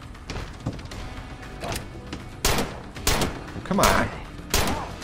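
Gunfire from the zombie survival video game State of Decay, a few sharp bursts scattered among other thumps and game noise while a player talks over it.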